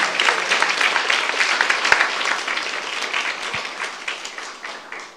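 A church youth congregation clapping during a sermon, a dense wash of applause that gradually thins and fades over a few seconds, with no speech over it.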